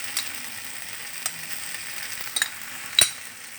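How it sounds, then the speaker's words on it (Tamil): Chopped boneless chicken sautéing with softened tomatoes in a pan, giving a steady low sizzle broken by a few sharp utensil scrapes and clinks, with the loudest stir coming near the end. "நல்லா தக்காளி நல்லா வதங்கிட்ட பிறகு இதையும் எடுத்து கொட்டி வதக்கணும்."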